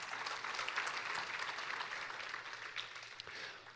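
Church congregation applauding the choir, a steady wash of clapping from many hands in a large room, fairly distant and fading slightly toward the end.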